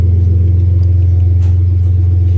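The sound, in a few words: car engine revving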